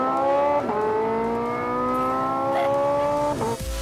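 Porsche sports car pulling away hard, its engine note rising in a steady climb with two brief gear-change dips, loud and close, then easing off at the end.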